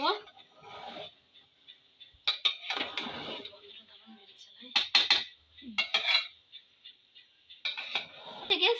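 Vegetable pulao is stirred in a cooking pot, with a spoon scraping and clinking against the metal in short bursts between pauses, close and fairly quiet, as someone talks over it.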